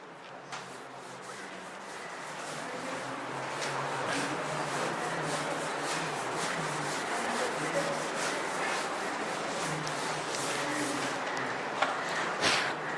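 A board is rubbed clean in a classroom, a steady close scrubbing swish running continuously with faint rhythmic strokes and a couple of small knocks.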